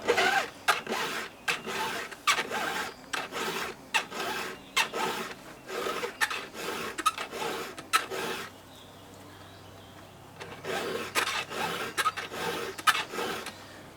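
Round file strokes sharpening the teeth of a square-ground saw chain, a steady series of rasping pushes in regular rhythm, close and moderately loud, with a brief pause before the strokes resume.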